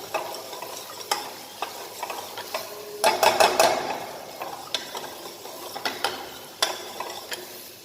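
Onion and garlic cooking in a pan for cream of broccoli soup, a steady close sizzle broken by repeated scraping stirs, with a brief louder burst of frying partway through.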